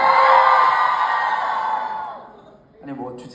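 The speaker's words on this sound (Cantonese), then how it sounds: "아니 뭐 주진 않고 소리만 지르네요." A fan meeting audience in Hong Kong screams loudly in a sustained high-pitched roar that fades out, followed by a brief voice speaking over the quieting crowd.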